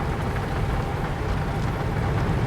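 Steady rain pours down while a Volvo FH16 780 truck is driven from London to Liège in Euro Truck Simulator 2, a dense, even hiss of drops over a low engine rumble, constant and close with no talk.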